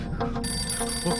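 A telephone rings in a horror thriller film scene, a brief electronic bell tone heard at close range over a busy background mix.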